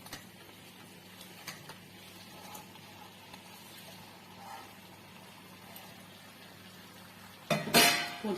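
Quiet kitchen background with faint taps and a low sizzle, then a burst of scraping and clattering near the end as fried eggs are stirred into gravy in a pan for egg manchurian.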